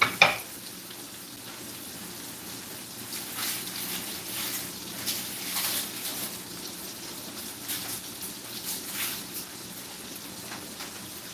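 Onions fry in a pan with cabbage for Halluski, giving a steady, soft sizzle and crackle throughout, close and moderate in level, with a brief clatter at the start and no talking.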